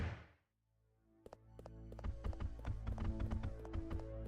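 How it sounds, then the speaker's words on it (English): Giant spiders' legs thud and clatter in Resident Evil Code Veronica X, a flurry of irregular hollow knocks starting after a quiet pause, growing denser over a low rumbling backdrop. "They thud a lot for little spider legs"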